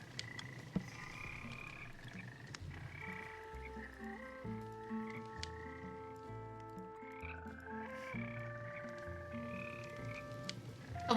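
Frogs croak in a Minecraft survival world, layered over steady game music with sustained tonal notes and no voices; the croaks blend into the continuous musical bed throughout.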